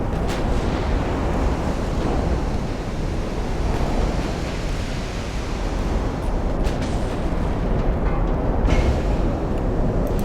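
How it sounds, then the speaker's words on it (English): Big naval guns firing in a battleship engagement in Ultimate Admiral Dreadnoughts, heard as a continuous loud roaring wash of rumble and surf-like noise with a few sharper bursts, no voices. "Those are the big guns."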